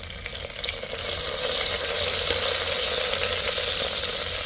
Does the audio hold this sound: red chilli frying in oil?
yes